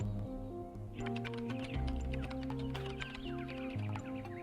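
Keyboard keys clatter in quick, uneven bursts inside The Talos Principle 2, set against a steady, layered musical drone with a clear tonal pattern, moderately close and without any talking.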